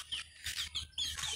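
Desi (domestic) chickens cluck nearby in a quick series of short, bright calls with brief gaps, with no one speaking.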